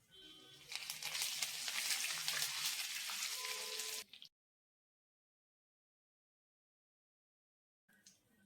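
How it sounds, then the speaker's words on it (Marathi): Curry leaves hit hot oil over frying dal, a loud crackling sizzle lasting several seconds before stopping abruptly, followed by silence and a faint resumed sizzle. "आता आपण कढीपत्ता टाकून घेऊ."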